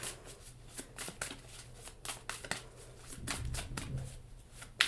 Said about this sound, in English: I pre-shuffled the deck, but I'm just like shuffling a little more.